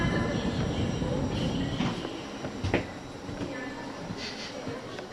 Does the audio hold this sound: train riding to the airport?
yes